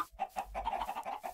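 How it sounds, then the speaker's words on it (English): Chickens on a farm in Minecraft cluck in a quick series of short, faint repeated calls over about a second, alone without speech. "Here's my chicken farm."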